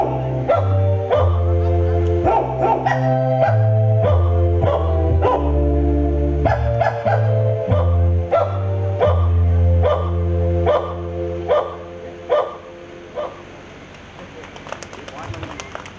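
A comedian on stage at a comedy show uses his voice to imitate a pack of dogs barking and yelping, a loud run of rapid vocal yaps that fades out near the end.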